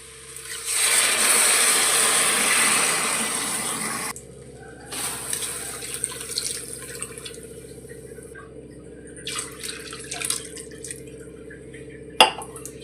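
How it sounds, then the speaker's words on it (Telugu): Water pours from a glass into a pot of prawn biryani in a steady rushing splash for about three seconds, followed by quieter intermittent pours, drips and a final sharp clink, close by with no talking. "ఇదే గ్లాస్తో మనం 3 గ్లాసులు వాటర్ వేసుకోవాలి."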